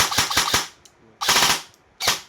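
An airsoft gun with a newly installed MOSFET fires in bursts: a rapid string of sharp close shots, a pause, then two more loud bursts of automatic fire.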